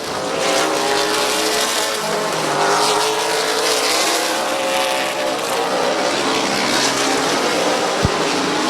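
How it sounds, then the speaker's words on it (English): Race cars roar around Midvale Speedway, a dirt-track style oval, in a loud continuous engine drone with rising and falling passes, crowd-level ambience, and a sharp knock near the end. "Brandon Short, lap and a half away from another unbelievable win at Midvale Speedway"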